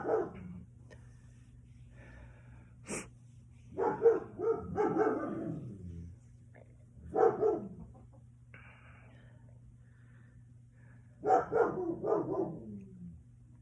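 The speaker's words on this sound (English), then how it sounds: "That's the neighbor's dogs." A neighbor's dogs barking in several short excited bursts with pauses between, moderately near against a quiet background with a faint steady hum.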